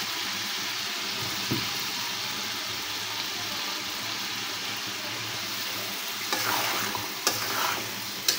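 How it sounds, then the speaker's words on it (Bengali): Beef stir-fried with spice paste in a pan, a loud steady sizzle running throughout, with louder scraping bursts from the spatula toward the end. "তো মাংসগুলো দেওয়ার পর ভালোভাবে এভাবে কষিয়ে নিচ্ছি"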